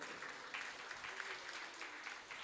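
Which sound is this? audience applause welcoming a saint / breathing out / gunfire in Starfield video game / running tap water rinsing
audience applause welcoming a saint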